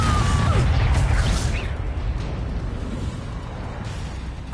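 A Confringo explosive spell from Hogwarts Legacy bursts in a loud crashing blast with a whoosh, then settles into a rumbling game backdrop that fades gradually.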